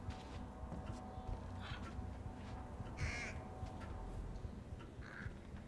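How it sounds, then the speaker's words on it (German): Raven in the video game Thief (2014) giving a few faint caws against a dense, rumbling in-game ambience with scattered soft noises. "Da ist wieder so ein Rabenviech."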